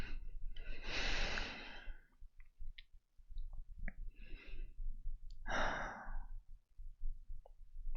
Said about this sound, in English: my breathing into the mic is relatively loud